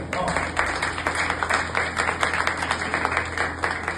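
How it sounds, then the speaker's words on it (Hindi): Steady crowd applause at a church gathering, dense continuous clapping from many hands lasting the whole stretch, with no voices over it. "सिस्टर नुसरत के लिए एक बार जोरदार तालियां।"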